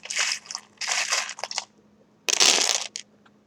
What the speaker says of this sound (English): what I'm doing is closing my eyes and like almost shuffling the pieces